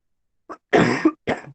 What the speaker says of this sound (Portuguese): é muita tosse hoje